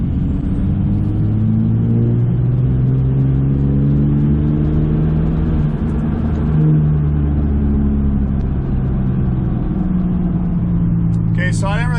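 A car engine under wide open throttle in fourth gear, on a car fitted with fuel rail plugs, rumbles loud and close as its pitch climbs steadily over several seconds, with a brief high sound near the end.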